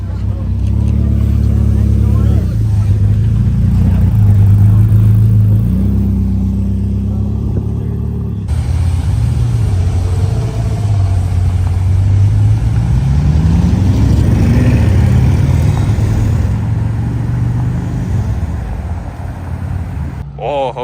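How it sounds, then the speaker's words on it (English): A Ferrari F40 rolls in at a Connecticut car show, its engine droning loud and close with shifting low harmonics and revs rising and falling, while voices talk over it throughout. "Another F40 rolling in."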